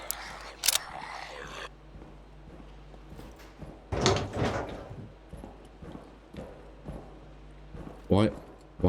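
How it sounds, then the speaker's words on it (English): Doors in the survival game Scum close in a few separate heavy knocks and slides, spread unevenly among quieter stretches and set apart by brief louder thumps. "Why does it sound like the doors are closing?"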